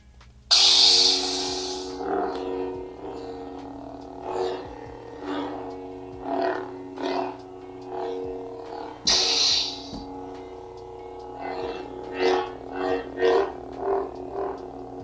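A buzzing electronic hum from a Theory Sabers Luke Skywalker Neopixel lightsaber swells and fades in repeated sweeps, broken by two sharp hissing whooshes as it is swung slowly and then fast.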